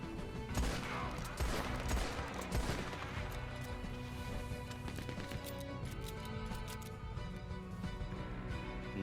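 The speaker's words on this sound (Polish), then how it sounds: "Usłyszałem strzały, usłyszałem strzały." Gunfire crackles in a Wild West bandit-life video game, rapid overlapping shots and clattering bursts filling the scene at a steady, fairly distant level, with hoof-like thuds mixed in and no talk.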